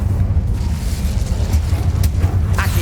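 Incendio fire spell blast in the video game Hogwarts Legacy, a steady deep rumbling roar of flame with a couple of brief crackling bursts near the end, loud and close, no voices.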